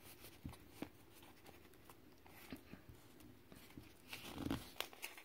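A packaged moxa stick being unwrapped, with soft crinkling and tearing of the wrapper in scattered small bursts, close but faint.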